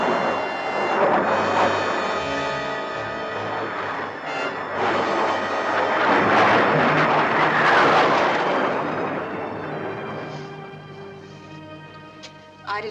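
Fixed-wing aircraft making a low-approach flyby, a broad engine roar that swells to a peak midway and then fades away, heard over a movie soundtrack with music.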